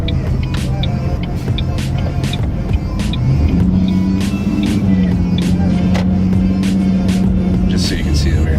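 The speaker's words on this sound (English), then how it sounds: "Just so you can see that we actually are driving around." A car driving along with interior LED lighting switched on, giving a steady engine and road hum throughout, with a low engine tone rising briefly midway, as people talk over it.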